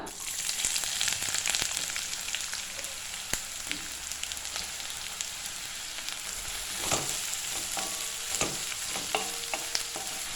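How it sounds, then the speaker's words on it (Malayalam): Chopped onions frying in hot coconut oil in a pan, a steady loud sizzle with occasional stirring scrapes and crackles, no talking. "നമ്മുടെ എണ്ണ ചൂടായിട്ട് വരുമ്പോൾ ഒരു 2 മീഡിയം സൈസ് സവാള ചെറുതായിട്ട് അരിഞ്ഞിട്ട് കൊടുക്കാം"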